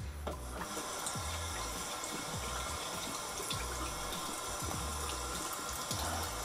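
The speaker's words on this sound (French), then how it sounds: "je vais rincer, alors je vais faire un peu de bruit" Running tap water pours steadily into a sink during a rinse after a cleansing-oil makeup removal. The close, continuous rush lasts the whole time with small splashes, and no one speaks.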